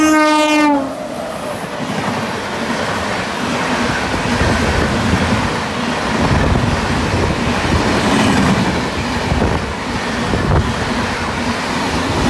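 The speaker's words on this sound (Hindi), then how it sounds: "यहाँ अभी देखते हैं कौन सी ट्रेन का कोई क्रॉसिंग होता है कि नहीं" A passing train crossing alongside the Janta Express on Indian railways: a horn sounds at the start, then a loud, sustained rumble and rattle of wagons rushing past close by for several seconds.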